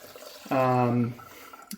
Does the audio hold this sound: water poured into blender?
yes